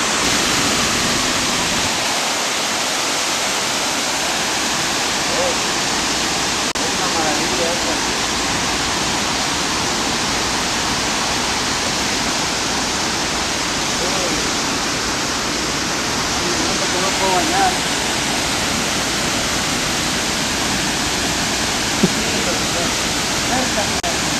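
Loud, continuous rushing water pours steadily, like a waterfall or fast stream, a dense broadband roar that stays constant close by, with speech faintly buried beneath it.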